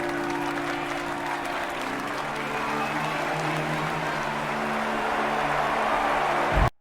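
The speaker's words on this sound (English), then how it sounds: "He's surprised that people are clapping and cheering for him" A crowd claps and cheers for King Aegon, steady and dense throughout. The applause stays loud and continuous, with a low rumble of voices mixed in, then stops abruptly.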